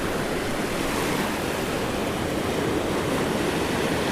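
Waves break on the beach as the tide comes in, a continuous close rushing wash with no pauses and no voices.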